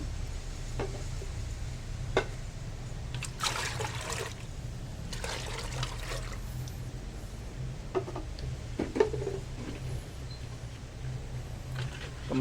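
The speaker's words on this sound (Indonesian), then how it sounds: "Lalu kita isi wadah bagian bawah dengan air sampai hampir penuh." Water poured into the lower part of a plastic planting container until nearly full, a soft continuous trickle and dribble under a low background hum, with occasional splashes and light knocks against the container.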